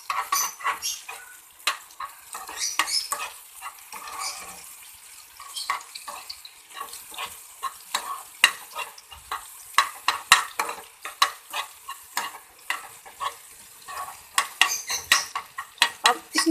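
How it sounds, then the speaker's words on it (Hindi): Sweet egg batter being stirred in a hot frying pan, with repeated light scrapes and clinks of a utensil against the pan in an uneven rhythm over a soft sizzle, close and fairly quiet. "ये हमने इसमें पैन में ऐड कर दिया। ठीक है, अब अच्छी तरह इसको हम"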